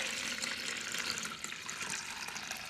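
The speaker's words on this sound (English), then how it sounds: "Then just pour the water out." Water poured out of a container of fine granite polishing particles, a short splashing, trickling pour that runs fairly steadily with small gurgling fluctuations.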